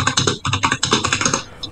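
Rapid, loud clatter of keys on a computer keyboard during a Roblox Doors session, a quick run of close keystrokes with a short pause partway through and no talking.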